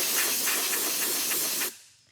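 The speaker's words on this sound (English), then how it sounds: "what we're going to do is take some compressed air and just blow it out" Compressed air blows hard out of an engine bearing cap during a Ford 5.4L 3V engine build, a loud continuous hiss close by that cuts off abruptly near the end; no talking.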